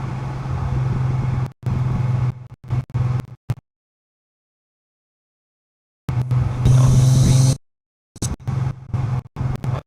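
A Toyota Supra cruises with its engine humming in a low steady drone, loud and close, broken by abrupt dropouts and one long silent gap, and no talking.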